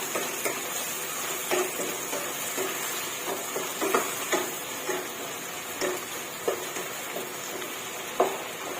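Fresh shiitake mushrooms stir-fried in oyster sauce with plenty of garlic, a steady sizzle broken by intermittent scraping and clinking of a spatula against the pan, close and moderately loud, with no talking.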